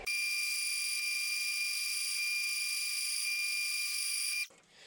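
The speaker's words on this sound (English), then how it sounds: "Let's drill this." A high-pitched power drill whines steadily and loudly for several seconds drilling holes on a 1966 Ford Bronco, then cuts off abruptly and winds down.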